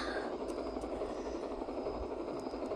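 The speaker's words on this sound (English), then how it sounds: "Oh, I think someone just stole a helicopter." Steady whirring helicopter rotor drone with a broad engine hum, continuous and fairly distant, no voices over it, in a Roblox video game.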